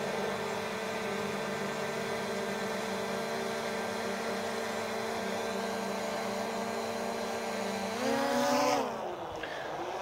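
A DJI Mavic Air 2 drone fitted with Master AirScrew stealth propellers hovers about a foot away, giving off a steady, layered whine that rises sharply in pitch under throttle near the end.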